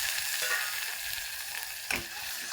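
Garlic frying in a pan until golden, giving a steady broadband sizzle with light stirring scrapes and a sharper clink near the end, close and alone without talk.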